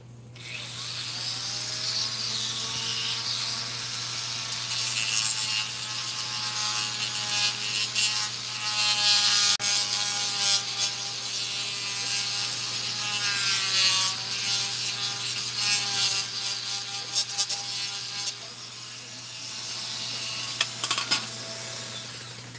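A plastic scale model car body, a C1 widebody, being trimmed by hand with steady, continuous scraping and rubbing strokes, close and fairly loud, with a tonal whine and a low hum behind it and no talk.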